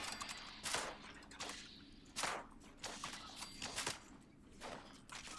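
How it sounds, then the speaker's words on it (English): Gunfire from assault rifles and plasma rifles in Fallout 76 comes as several sharp, separated shots and short bursts, moderately loud over a low ambient rumble with no voices. "the soldiers in here shoot a variety of weapons from assault rifles to plasma rifles"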